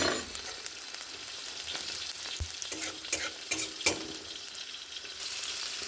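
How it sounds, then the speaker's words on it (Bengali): Fennel and black cumin seeds sizzle in hot oil beside partly fried potatoes for a tempering, a soft steady crackle with a few sharper pops and stirring scrapes close by. "এবার এখানে মৌরি আর কালো জিরে একটু পাশে ফোড়নে দিয়ে দিচ্ছি।"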